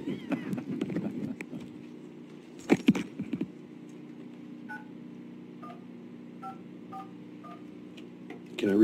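Touch-tone telephone keypad beeps dial into a county board meeting's phone line, a string of evenly spaced tones following some brief clatter and handling noise near the start.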